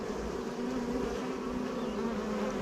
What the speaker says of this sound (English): I'm just going to use the brush, and I'm just going to brush these bees